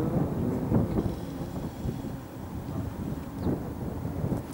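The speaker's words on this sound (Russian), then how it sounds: "а на самом деле ветер просто ледяной" Gusty, icy wind buffets the microphone with a low, continuous rumble that swells and fades, no voices present.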